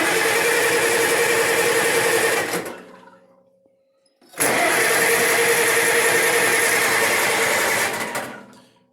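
An old Cub engine runs with a steady, loud mid-pitched drone, then dies away into near silence, fires up again abruptly and keeps idling evenly before cutting off near the end.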